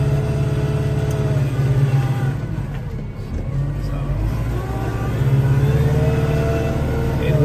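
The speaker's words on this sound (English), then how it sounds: "I'll drop the snow blower in the back, and I'll use the snow blower as a plow. And that's exactly what I'm doing now." A vehicle pushing a rear-mounted snow blower as a plow through snow, its engine rumbling steadily and loud with surging revs that rise and fall throughout.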